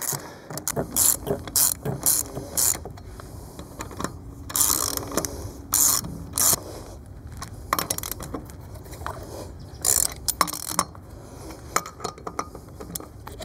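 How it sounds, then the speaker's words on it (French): A 19 mm ratchet wrench clicks in quick repeated bursts while nuts are tightened crosswise on a folding, lowering motorcycle trailer, with metallic clinks between the close, fairly clear ratcheting runs. "vous prenez votre clé de 19 et vous venez serrer les écrous déjà en position dessus"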